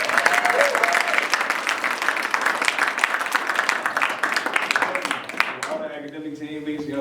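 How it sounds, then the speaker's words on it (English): Audience applause from a comedy crowd: dense, sustained clapping with some cheering fills the clip at steady loudness, with brief vocal whoops and a speaking voice emerging near the end. "Can I get a round of applause for my mom over there?"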